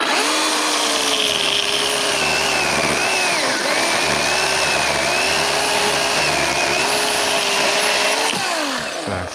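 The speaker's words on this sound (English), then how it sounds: "good sharp chain on these battery saws makes a difference" A battery chainsaw with a sharp chain cuts through wood out in the bush, a loud continuous whine that dips and rises as the chain bites, running nearly ten seconds with no talking.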